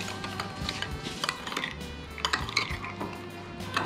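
A spoon clinks and scrapes against a bowl as a sauce with brown sugar for steamed striped bass is mixed, close up, with irregular taps and rattles and no talking.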